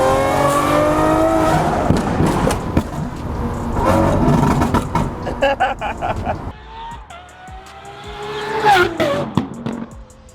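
Muffled cabin view of a Lamborghini Aventador SVJ fitted with a Gintani exhaust, engine tone rising and falling through gear changes, loud but dulled from inside, passing through an underpass with brief tire and road noise.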